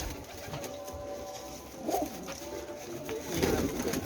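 Pigeons coo softly at close range, a few low throaty calls rising against faint background noise, with no talking.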